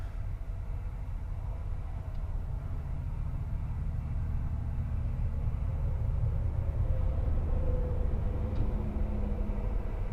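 A flatbed truck rolls slowly up onto a set of weighing scales, giving a steady, low engine rumble that holds evenly throughout with no voices.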